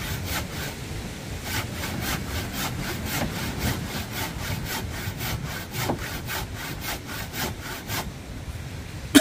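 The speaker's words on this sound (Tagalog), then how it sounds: "Pinahasa ko ulit ang lagari." A hand saw cuts through lawaan wood in a steady series of raspy push-pull strokes, close and regular, ending with a small knock.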